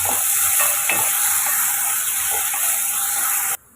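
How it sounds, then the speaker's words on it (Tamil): Salted onions sauté lightly in a pan for a mushroom fry, with a steady close sizzle and hiss broken by faint stirring scrapes before the sound cuts off abruptly. "உப்பு போட்டுட்டு நம்ம வெங்காயத்தை கொஞ்சம் வதக்கி விட்டுக்கலாம் லைட்டாக"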